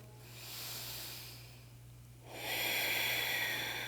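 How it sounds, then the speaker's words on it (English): Deep yoga breathing: a slow, hissing inhale through the nose followed by a fuller, louder exhale, close and quiet with no talk. "those deeper breaths start to get the cardiovascular system involved"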